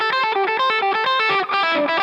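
A fast four-note pentatonic loop lick played on an overdriven electric guitar, the same notes cycling again and again in a tight, even rhythm, loud and close with no talking.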